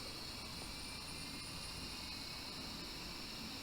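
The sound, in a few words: Boeing 777 engine 2 starting up in Infinite Flight simulator game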